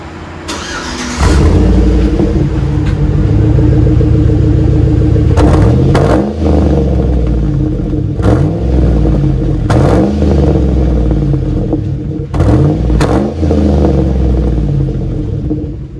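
A 2009 GMC Sierra 5.3 V8 pickup with Flowmaster Flow FX exhaust idles with a deep rumble, then revs up sharply several times in short bursts, loud and close, settling back between each blip.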